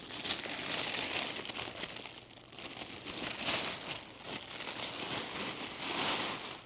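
Tissue paper from a Coach bag crinkles and rustles as it is unwrapped by hand, a close, continuous crumpling that swells and eases in several waves with no talking.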